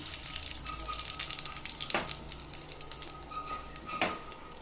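Steady crackling sizzle of curry leaves frying in hot oil for coconut chutney tempering, with a few sharper pops and spatters breaking through the constant hiss.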